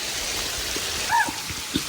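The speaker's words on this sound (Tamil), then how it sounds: "மழை வந்துச்சு, அதனால கொஞ்ச நேரம் வெயிட் பண்ணலாம்." Rain falling outdoors during a fishing trip in the hills, a steady broadband hiss with light patter, a few faint voices and a brief higher call in the background.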